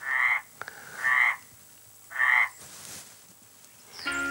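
Frogs croak in three loud, evenly spaced bursts, each about half a second long, separated by quieter gaps, with no voices over them.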